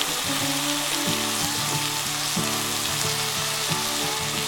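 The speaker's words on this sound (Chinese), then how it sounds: "花雕去腥，继续翻炒均匀。" Lemon duck being stir-fried in a wok with soy sauce and oyster sauce, giving a steady close sizzle and hiss throughout, with background music playing over it and no talking.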